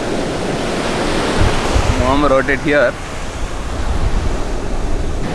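Ocean waves wash up on a beach in a steady, loud roar of surf with wind noise on the microphone, and someone briefly speaks over it.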